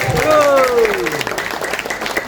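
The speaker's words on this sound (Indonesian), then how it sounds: "Tepuk tangan untuk Bapak Ibu." At a loud Indonesian rally, a crowd claps loudly and steadily while a voice with a sliding cry rises over it at the start, amid general cheering noise.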